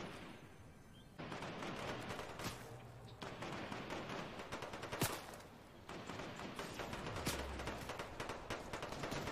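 Pistol shots crack during a video game elimination, several sharp separate reports over a steady background of game noise, mostly moderate and fairly close.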